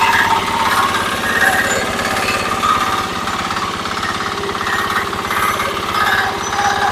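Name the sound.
Kentavr walk-behind tractor engine running after restart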